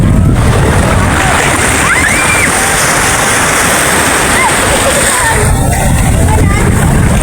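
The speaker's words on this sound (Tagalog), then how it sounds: "Lakas ng alon guys." Strong ocean surf breaks on a beach at Lian, Batangas, giving a loud continuous wash and roar close by, with faint voices mixed in.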